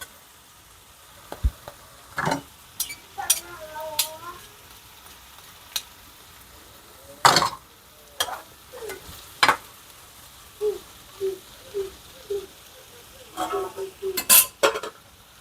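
Stuffed eggplant roasting in a pan on low heat, stirred with scattered sharp scrapes and clinks of a utensil against the pan over a faint sizzle, the taps coming in uneven bursts.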